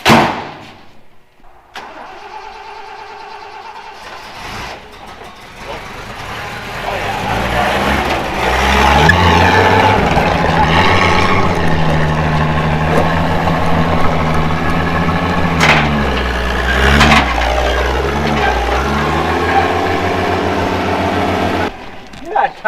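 An old Toyota Land Cruiser FJ40 engine cranks, catches and runs at a loud, steady mid-pitched rumble with revving swells, heard close up for most of the stretch.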